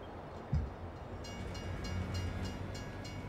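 A train rolls along in the Farming Simulator 22 video game, a low rumbling drone with a brief thump near the start and faint rhythmic rail clatter, moderately quiet.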